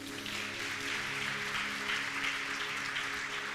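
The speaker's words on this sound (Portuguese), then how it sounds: "Aplauda ao Senhor." A church congregation applauds steadily for several seconds, a dense wash of clapping that fills the room at an even level.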